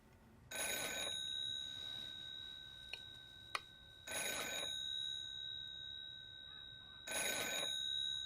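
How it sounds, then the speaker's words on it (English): A telephone in a TV drama rings in three separate bursts, slightly distant and fairly faint, with a couple of small clicks between rings. "I reckon that's Rothstein probably ringing"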